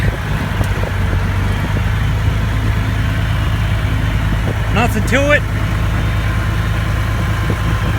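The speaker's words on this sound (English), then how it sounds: "some fancy tractor driving and we can get this wagon out" A tractor engine idles with a steady low rumble throughout, and someone speaks briefly over it partway through.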